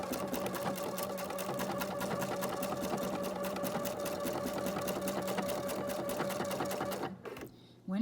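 A PFAFF creative icon sewing machine stitches ribbon in a fast, even, rattling run for about seven seconds, then stops, leaving brief quieter handling noises.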